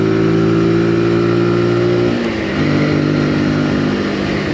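A Zontes ZT125GK 125 cc motorcycle cruising at a steady 40 mph, its engine a continuous loud mid-pitched drone with a brief dip and resettle partway through, wrapped in steady road and wind noise.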